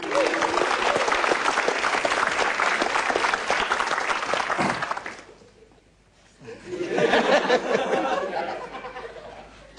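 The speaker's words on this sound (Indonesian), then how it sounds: "Beri tepuk tangan untuk Jui." A comedy show audience applauds comedian Jui with loud, dense clapping and some laughter, fading out briefly to near quiet before a second burst of applause rises again.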